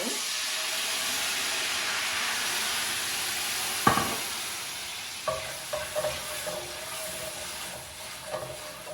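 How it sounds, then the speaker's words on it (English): White wine hits a hot pan of browned garlic for shrimp scampi, setting off a loud steamy hiss that fills the clip, followed by a sharp clack and several softer clicks and scrapes of a utensil stirring. "now what I'm going to do is deglaze the pan with a little white wine"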